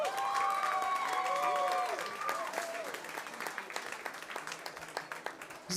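Audience applauding for a singer and her band at the Plattsounds band contest final, a broad crowd clapping that fades gradually, with sustained tones ringing above it at first.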